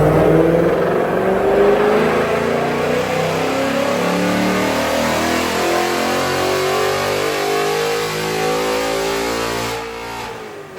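A 2024 Ford Mustang GT V8 revs hard on a dyno in a sustained, loud, rising pull lasting about ten seconds, then eases off near the end, with no talking over it.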